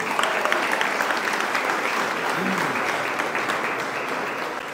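Applause from a church congregation for a young girl, a dense steady wash of clapping filling the space at moderate loudness throughout, with a faint voice briefly audible underneath.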